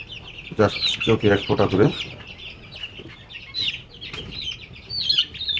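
Chickens cluck and squawk close by while being vaccinated with eye drops, loud bursts early on followed by scattered softer calls, with a person talking briefly over them.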